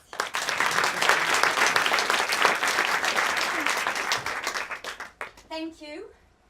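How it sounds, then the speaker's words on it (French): Sustained, loud audience applause honouring the SaveMe founder at a Station F startup award event, dense clapping filling the room for several seconds before fading as a voice begins speaking near the end. "Merci d'applaudir sa fondatrice Elisa Grangeard"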